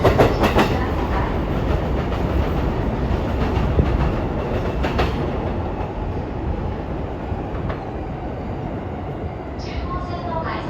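A commuter train at a Tokyo Station platform rolls through with loud rumbling and rhythmic clickety-clack of wheels over rail joints, fading slightly. A platform announcement is heard over the train noise.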